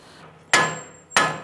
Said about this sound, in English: Use my sledgehammer.